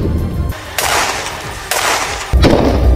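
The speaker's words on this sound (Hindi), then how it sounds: "दोनों तरफ से कई राउंड फायरिंग हुई" Gunfire is exchanged between Golani Brigade soldiers and Hamas fighters in Gaza, heard as several loud, sharp bursts of shots roughly a second apart, close and harsh.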